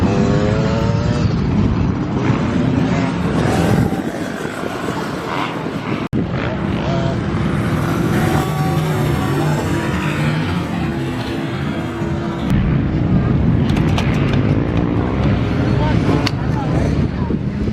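A small dirt bike engine buzzes and revs as a child rides, a steady droning whine that rises and falls with throttle, heard at moderate distance with people talking over it.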